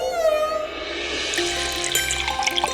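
Water pours into a vessel for a few seconds, a close, steady stream whose tone climbs as the container fills, with light splashing and trickling near the end.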